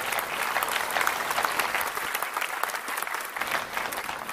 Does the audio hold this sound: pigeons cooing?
no